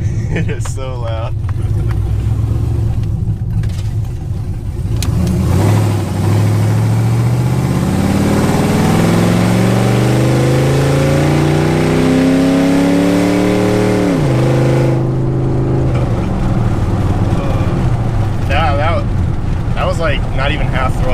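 A loud, throaty Chevrolet Silverado pickup engine with a performance cam and open headers idles, then revs up and climbs in pitch before dropping back down, rumbling close by the whole time.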